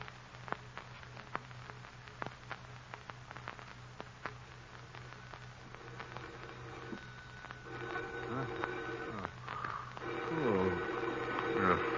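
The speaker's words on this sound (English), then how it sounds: "Phone. Who could be calling at this hour?" Old-time radio drama effect of a telephone being dialed, with a run of clicking rotary dial pulses, then a phone ringing loudly toward the end, set in a quiet room.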